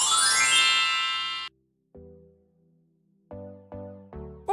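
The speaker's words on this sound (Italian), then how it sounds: "attiva la campanellina delle notifiche" A bright notification jingle rings out, then after a short gap a few soft chime tones are followed by three quick ascending bell dings, clean and alone with no voices.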